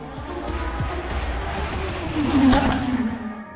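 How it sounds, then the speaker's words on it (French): Cars drive through a Roblox GTA-style game set in a Miami-like city, a steady engine drone swelling to a louder rev near the middle and holding under constant background noise. "Les voitures font du bruit."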